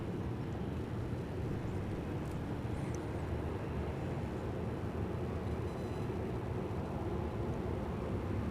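A Boeing 737-700 airliner at Dallas Love Field gives a steady, distant engine rumble and broadband roar that holds at an even level with no voices.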